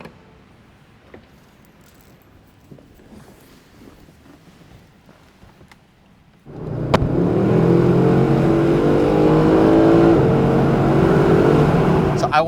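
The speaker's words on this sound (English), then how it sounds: "these quad exhaust tips, which sound amazing, which you're gonna hear right now because we're taking this on the road now" A Mercedes-Benz SLS with quad exhaust tips pulls away on the road, its engine note rising abruptly to a loud, sustained roar with wind noise after a quieter idle stretch.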